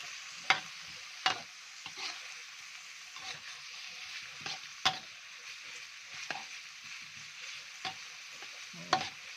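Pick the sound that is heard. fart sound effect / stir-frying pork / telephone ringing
stir-frying pork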